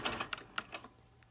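A sewing machine takes a couple of stitches close together: a quick, faint run of light mechanical ticks and clicks that stops within a second.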